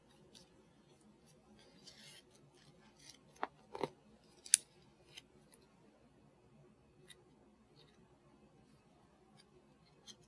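Scissors snip along the edge of a PolyMem foam wound dressing, a few quiet, close crisp cuts scattered over about ten seconds in a hushed room.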